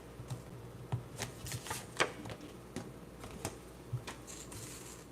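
Tarot cards pulled from a box and shuffled close by, a steady patter of soft riffles and crisp flicks with occasional sharper taps, no talk.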